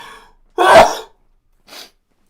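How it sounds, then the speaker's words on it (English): One sharp, close sneeze bursts out alone, followed by a brief breathy exhale. "that was the biggest sneeze ever"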